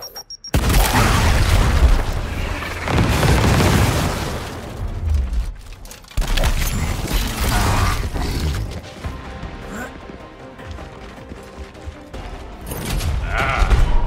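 Grenade blasts and gunfire in the video game Gears Tactics, heavy booming explosions and crashing debris in loud bursts with brief pauses, followed by quieter rumbling and clatter.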